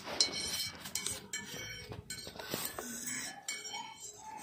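A spoon mixes salt into beaten egg in a bowl for an egg-bread breakfast, with quick, quiet clinks and scrapes of metal on the dish in an irregular rhythm.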